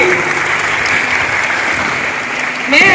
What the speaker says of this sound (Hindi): Let's clap all of them, क्योंकि आप सब एक जोरदार ताली आप सभी के।